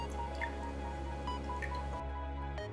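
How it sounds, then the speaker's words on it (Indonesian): Juice from half a lemon dripping into a herbal drink mixture: a few light, close drips and a soft squish over a steady background hum. "Tambahkan juga setengah buah jeruk lemon yang sudah diambil airnya"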